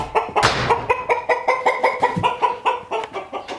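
A close, loud run of rhythmic rooster clucks repeats in quick succession for several seconds, with a rougher squawk near the start.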